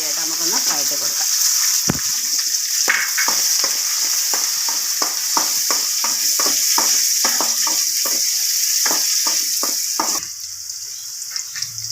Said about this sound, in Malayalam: നമ്മൾ ആദ്യമായിട്ട് അതിനകത്തേക്ക് നമ്മുടെ ചെറിയ ഉള്ളി ഇട്ട് നമുക്കൊന്ന് വഴറ്റി കൊടുക്കാം